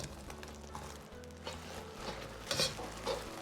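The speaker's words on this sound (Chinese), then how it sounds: "再用勺子慢慢的推动，让其受热均匀。" Beaten eggs frying in a hot wok as a ladle slowly pushes them, giving a steady close sizzle with soft scraping strokes and a few louder clinks of the ladle against the wok.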